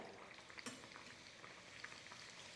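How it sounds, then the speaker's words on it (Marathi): A vada fritter of chicken-meal batter sizzles in hot oil over high heat, a faint, steady bubbling crackle with no voices. "वडा तेलामध्ये सोडायचा"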